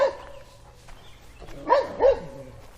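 Dogs barking outdoors in a lakefront suburb, a bark and whimper first and then two louder barks near the end, moderately close.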